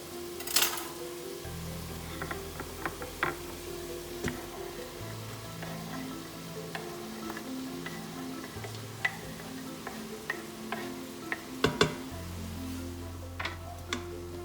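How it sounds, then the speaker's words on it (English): Chopped onion goes into a pan of drained cooked meat and sizzles quietly while scattered ticks and taps of stirring sound through the frying, with no talking. "So now that I've drained the meat, I'm just going to add the onion to it."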